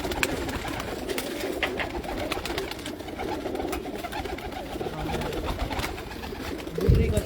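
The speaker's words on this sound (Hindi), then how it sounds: "कबूतर सारे हमारे घर के हैं" Pigeons from a rooftop loft flock, kept as a prized racing and show breed in Hafizabad, coo and flutter in a steady close murmur of birds, with a brief louder bump near the end.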